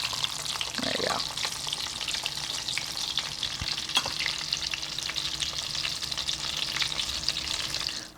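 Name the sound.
pan frying in oil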